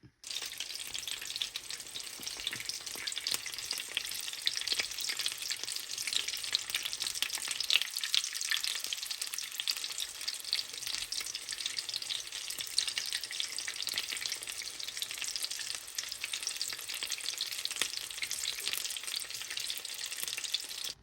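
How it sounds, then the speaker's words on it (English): Pork chops frying in a pan, a constant crackling sizzle with fine popping spatters that continues unbroken and fairly quiet, with no talking. "Pork chops are about to be fried"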